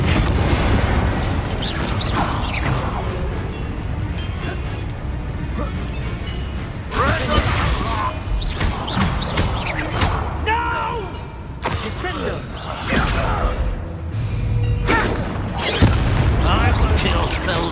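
Bombarda and Confringo spell explosions from the video game Hogwarts Legacy go off in repeated loud booms and crashing bursts amid combat clatter, with a voice speaking in between.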